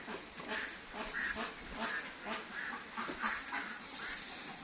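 Ducks quack repeatedly in a busy, overlapping chorus, fairly close, with a steady rhythm of calls and no talking.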